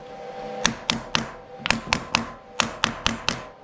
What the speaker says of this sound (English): just give it a tap, check the parallels, they're nice and tight